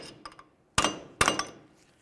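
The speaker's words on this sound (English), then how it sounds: "Use a hammer and punch, come right in the center here and break the axle free from the wheel bearing." Sharp metallic strikes of a hammer on a punch against the axle center of a 2002-2005 Ford Explorer rear wheel bearing hub: two loud close blows after a few lighter taps, each with a brief ringing decay.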